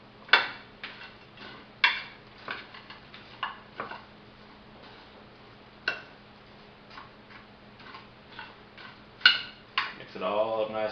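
Ingredients are stirred together in a cooking pot, with a spoon giving sharp, irregular clinks and taps against the sides, close and fairly faint. A scraping stir swells near the end.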